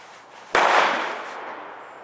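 A single sharp rifle shot from a Sig 522 firing lower-velocity ammunition at an outdoor shooting range, loud and close, its report decaying into a lingering echo.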